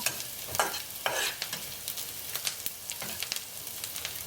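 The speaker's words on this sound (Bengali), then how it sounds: "আমার পেঁয়াজ মরিচগুলো ভাজা হয়ে গেছে" Onions and dried chillies frying in oil for a taki fish bhorta sizzle softly while a spatula scrapes and tosses them in quick, irregular strokes close by.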